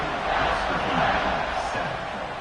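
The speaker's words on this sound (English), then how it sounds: "this crowd is buzzing after that last score" A stadium crowd in an American football video game keeps up a loud, steady buzzing roar, slightly swelling in the middle, with a commentator's voice running over it.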